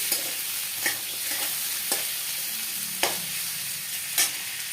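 Cut potatoes sizzle steadily in hot oil in a pan while a spatula scrapes through them in slow, evenly spaced strokes about once a second.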